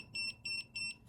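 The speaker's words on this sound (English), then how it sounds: "It's going to beep twice." A Flysky FS-MG7 radio-control transmitter beeps as it is switched on: three short, bright electronic tones in an even rhythm, close and clear over a quiet background.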